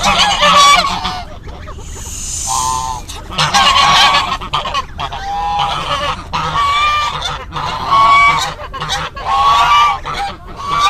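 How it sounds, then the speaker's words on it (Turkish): Geese guarding their goslings in a village give loud, close, repeated nasal honks. Calls come in overlapping bursts that continue almost without pause. "Burada kazlar doğal ortamda"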